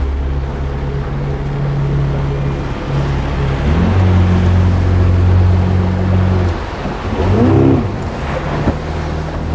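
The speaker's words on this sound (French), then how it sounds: "Regarde les gros remous que ça fait." A motorboat with a 115 hp V4 outboard engine runs steadily on open water, its loud droning hum shifting pitch as it throttles up, with wind and wave wash throughout.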